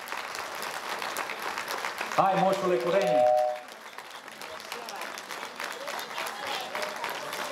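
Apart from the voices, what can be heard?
concert audience applause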